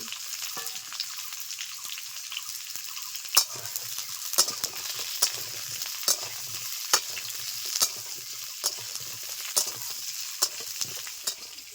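Pointed gourd and potatoes stir-fried in a pan for a rohu and pointed gourd curry, a steady sizzle with a regular series of sharp spatula scrapes and knocks against the pan, close and moderately loud with no talking.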